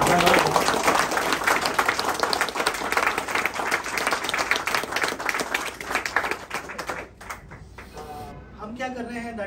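An audience at an institute event in Mumbai honouring a National Film Award winner breaks into loud, dense clapping that lasts about seven seconds and fades, after which a voice begins speaking.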